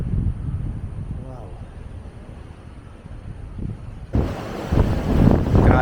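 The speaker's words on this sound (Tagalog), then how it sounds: "Grabe lakas ang hangin guys, oh." Low, rumbling strong wind buffets the microphone outdoors in Infanta, Quezon, throughout, growing rougher and louder near the end.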